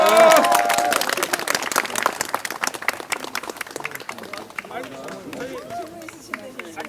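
Applause from the audience at the close of a legal team's press briefing: loud, dense clapping at first that thins and fades over several seconds, with voices mixed in.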